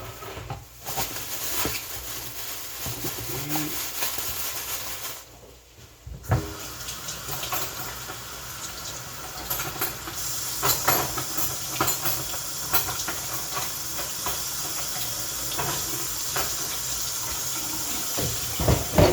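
Tap water runs over a knife and broccoli at a kitchen sink, a continuous rushing splash that briefly dips and then keeps flowing, with some clatter from handling.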